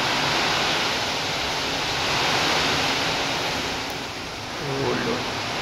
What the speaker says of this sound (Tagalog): Galing kasi dito ang ano, hangin na malakas na may kasama na ulan.